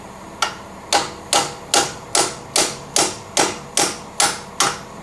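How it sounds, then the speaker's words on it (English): A hammer strikes a press-fit bolt on a Chrysler Town and Country minivan's suspension during strut and sway bar link replacement. The metallic blows come close and loud, about eleven in an even rhythm, each ringing briefly before the next. "Maybe use a skinnier hammer."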